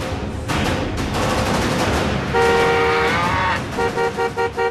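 A car speeds along a road, engine and road noise loud and close, then its horn blares in a long blast followed by a run of short, rhythmic honks.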